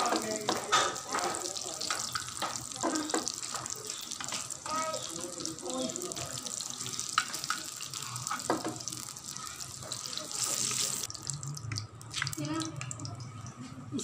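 Beef seekh kebabs frying in a pan give a quiet, steady, hissing sizzle with occasional soft clinks and handling noises, while a person talks over the cooking.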